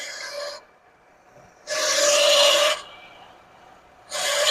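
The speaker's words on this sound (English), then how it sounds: "Yep, it's the smog pump." A loud, harsh rasping whine from the smog pump of a 1979 Lincoln Continental engine, which sat unused for 32 years, comes in repeated bursts, separated by quieter gaps.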